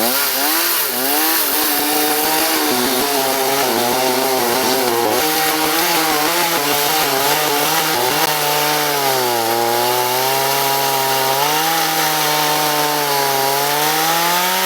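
A chainsaw on a Beam Machine mill rips lengthwise through a wood slab, engine held loud and steady near the mic, its pitch sagging and recovering as the bar loads up in the cut, with no voices.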